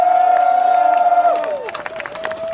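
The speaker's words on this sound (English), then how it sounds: "Big round of applause for all the honorable mentions." Crowd cheering and applause at a patch-in ceremony for honorable mentions, loud whoops and a sustained held tone over scattered clapping, settling into lighter claps and shouts.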